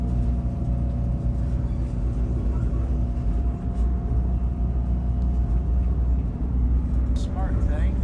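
Steady low rumble of a train engine hauling passenger cars on a scenic river ride in Tennessee, a continuous droning roar heard from aboard with a brief high squeal near the end.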